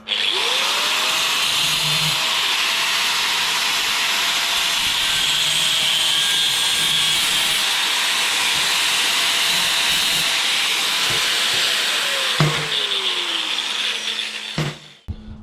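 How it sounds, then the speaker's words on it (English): Power tool cutting thin sheet metal on an under-seat fuel tank for a BMW adventure motorcycle build: a loud, continuous high-pitched hissing whine held steadily for about twelve seconds, then winding down with a few clunks. "Just going to cut that bit off now."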